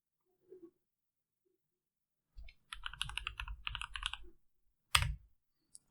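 A computer mouse clicks on a desk while a drawing program is tested, a quick burst of close, crisp clicks followed by a short pause and one more sharp click, with no talk.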